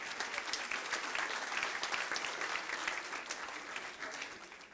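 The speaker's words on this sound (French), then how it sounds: "Et on peut applaudir Bernold, qui est toujours là, en beau lutin." An audience claps together at a Christmas event, a steady, dense patter of many hands that carries on evenly throughout and fades slightly near the end, heard from a little distance with no talk over it.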